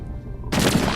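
Rockets firing in an Endless Space 2 space battle, a sudden loud burst of rushing, crackling blasts cutting in halfway after a quiet hum.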